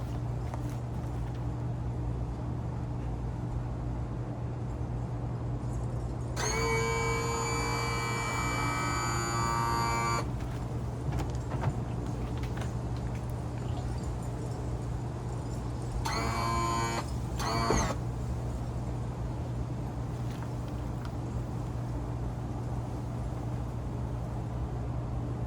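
Power tilt motor on a Yamaha 150hp four-stroke outboard whirring as the engine is lowered, a steady electric whine running in two bursts over a constant low mains-like hum, fairly close with no talking.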